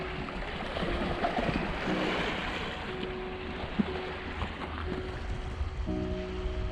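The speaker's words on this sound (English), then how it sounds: "it's nice listening to the water" Gentle water lapping on a calm estuary shore at Foyle Banking, Ballykelly, a soft continuous wash with light wind and no waves, with a faint tonal hum running underneath.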